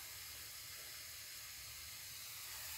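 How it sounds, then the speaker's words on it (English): Noodles frying with garlic and olive oil for Pad Thai, giving a steady, close hiss and sizzle that runs unbroken and fairly quiet, with no talking. "Fry them with garlic and olive oil."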